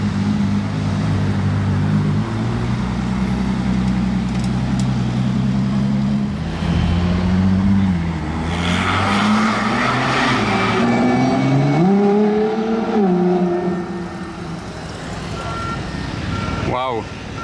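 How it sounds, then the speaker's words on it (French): The V12 engine of a LaFerrari rumbles nearby, and its pitch rises and falls in several sweeps as the exhaust valves open, with people talking over it. "On a eu l'ouverture des valves du V12 monumental."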